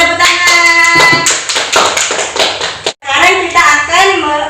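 Children clapping their hands together during an elementary classroom teaching session, with a quick run of claps mixed with young voices, fairly close and loud.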